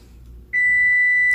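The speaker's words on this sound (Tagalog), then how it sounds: "Nagbip na ang ating uh, timer." Kitchen oven timer goes off after a quiet moment, a single sustained loud electronic tone that starts abruptly and holds to the end, while banana bread bakes; no talking.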